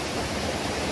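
The Curug Lawe waterfall, where the falling water is under high pressure, makes a steady, dense rushing roar that fills the whole brief moment without a break.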